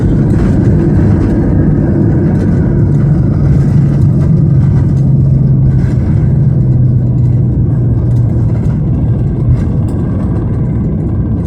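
A plane lands on a bumpy runway at Kuala Lumpur International Airport, heard from inside the cabin as a loud, continuous low roar and rumble that holds steady throughout, with no talking.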